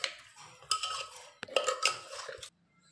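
Chopped onion, green chili, salt and turmeric being mixed by hand in a metal bowl, a series of wet squelching scrapes and light metallic clinks in short bursts, ending in near silence.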